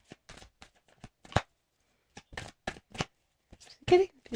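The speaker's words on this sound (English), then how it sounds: "Let me shuffle these cards." A deck of playing cards is shuffled in several short, crisp riffling bursts separated by pauses, close and fairly loud, with a heavier flurry near the end.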